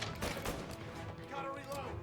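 Dense gunfire from the Mafia video game, a rapid rattling stream of shots with a voice talking over it.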